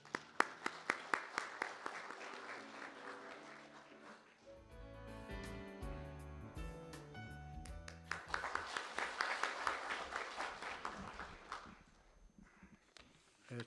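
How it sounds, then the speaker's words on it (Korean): Audience at the opening ceremony of the 2018 Jeju Education International Symposium claps in sharp, scattered hits that thicken into steady applause, fall away under a stretch of music, then return before fading. "큰 박수로 맞이해 주시기 바랍니다."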